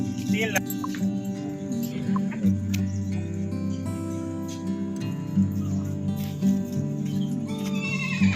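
A horse neighs and whinnies at the Dewa fair livestock market, heard among the busy crowd noise and a steady droning hum of the fairground, with the calls recurring across the scene.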